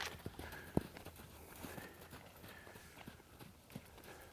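An untouched mustang shifts its hooves around near a horse trailer, giving scattered, uneven clops and thuds at close range over a soft background, with one sharp knock standing out.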